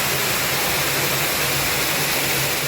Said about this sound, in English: The waterfall is so impressive that I have to get a shot of it from down below as well.